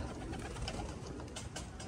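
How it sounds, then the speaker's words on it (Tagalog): Racing pigeons cooing at a loft, with soft repeated coos over a background of outdoor ambience and wing and movement noise. "Maganda ng mga ibon eh."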